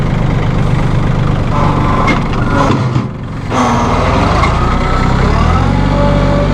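A 2011 Massey Ferguson 1635 hydrostat compact tractor engine idles with a steady, loud diesel rumble throughout, dipping briefly in the middle before resuming its constant drone.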